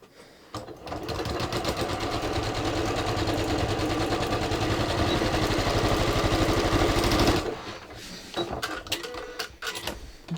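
A sewing machine runs in one steady, loud burst of stitching for about seven seconds, sewing elastic into a yoga-pants-style waistband on ready-to-wear jeans, then stops, leaving a few quiet handling sounds.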